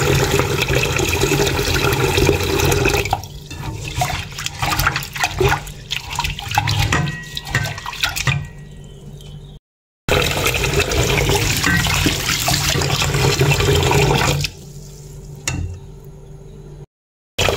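Water runs steadily from a tap and splashes, with swishing and dripping as rice is rinsed, pausing briefly before the flow resumes.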